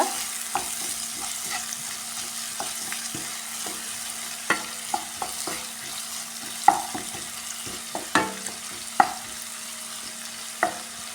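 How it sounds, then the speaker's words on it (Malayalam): Onion, green chilli, ginger, garlic, fennel seed and salt sauté in the oil left from frying egg bajji, a constant sizzle under repeated sharp spoon clicks and scrapes against the pan. "ഇതാ നമ്മുടെ ബജി പൊരിച്ചിരുന്ന എണ്ണയിൽ തന്നെ ഉള്ളി പച്ചമുളക് ഇഞ്ചി വെള്ളുള്ളി വലിയ ജീരകം ഉപ്പിട്ട് ചേർത്ത് നന്നായിട്ട് വഴറ്റിയെടുക്കുക"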